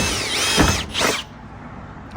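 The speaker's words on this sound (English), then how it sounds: "That drill's a lot easier than I thought." A power drill whines in two short bursts, pitch rising and falling as it bites, then stops, leaving a quiet background hum.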